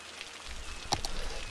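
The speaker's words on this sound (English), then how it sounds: "I really wish this rain would go away." Rain falling in the city-building game Cities: Skylines, a soft steady patter of drops with a couple of sharper close taps near the middle, quiet and continuous with no voices.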